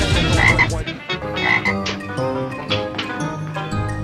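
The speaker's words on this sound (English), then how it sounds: "All right, Froggy. Hop around to the cement pond and have yourself another swim" A frog croaks repeatedly near a cement swimming pond in a 1970s sitcom scene, the rough calls loud and close, pulsing in irregular bursts with no talk over them.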